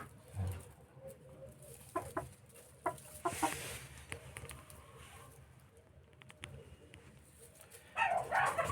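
Japanese Silkie chickens cluck and squawk intermittently at moderate distance, with a few short bursts of louder clucking and quiet background noise between calls.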